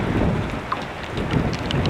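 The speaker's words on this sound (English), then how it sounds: "it's pissing down with rain" Heavy rain pouring down outdoors in a steady, dense hiss close by, with a few brighter droplet ticks and no voices.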